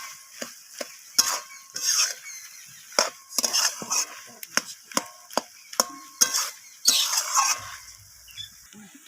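Cabbage with coriander leaves is stirred and fried in a pan, with a run of sharp scraping and knocking strokes of the spoon against the pan over a light sizzle, irregular and close.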